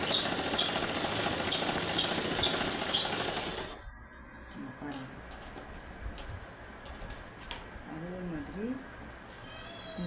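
A sewing machine stitches the side strip onto a blouse, running in a fast, even whir for about four seconds and then stopping. After that there is quieter room noise and brief faint sounds.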